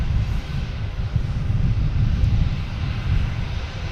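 Aer Lingus Airbus A330-300 arriving from Dublin at Boston Logan Airport, a steady loud low rumbling roar of jet engines throughout.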